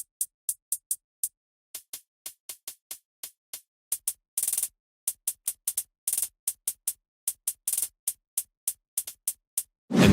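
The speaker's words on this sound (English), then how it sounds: "In hi-hats I just stacked a layer on it," Layered, stacked hi-hat samples in FL Studio for a Marshmello-style drop tick out as a steady run of bright, crisp hits, with a few longer open washes mixed in, and no voices over them.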